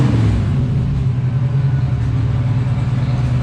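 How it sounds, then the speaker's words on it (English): A 1988 Ford Mustang with a turbocharged stock-block 302 V8 runs on a dyno, giving a loud, steady, continuous engine roar with a strong low rumble throughout and no talking. "so we're about to make our first pull here with Kevin and Dave here at TI dyno."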